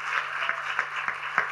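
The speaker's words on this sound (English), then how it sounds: "Let's clap for them." A church congregation claps together, a steady mix of many hands with a few sharper claps standing out, moderately loud and sustained through the short moment.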